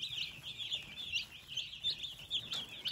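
Day-old Cornish Cross chicks peep continuously in high, rapid chirps, close and fairly clear over a faint low background hum.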